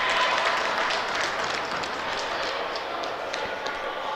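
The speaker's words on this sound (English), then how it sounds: "he's getting a nice round of applause as he gets up on his own." Spectators at a boys varsity high school ice hockey game, Gloucester Fishermen versus Algonquin Titans, give a steady round of applause for an injured player rising from the ice, a dense, fairly distant wash of clapping filling the rink.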